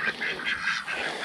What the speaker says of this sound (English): around these geese and these ducks